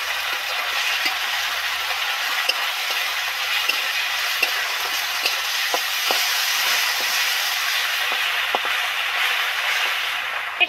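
Onions and ginger-garlic paste fry in hot oil for an egg dish, giving a steady, close hiss of sizzling with scattered crackles and pops that holds evenly throughout.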